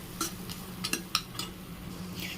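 Mutton bones and tomatoes are stirred in a pan with a metal spoon, giving a few light scrapes and clinks over a soft, steady background sizzle.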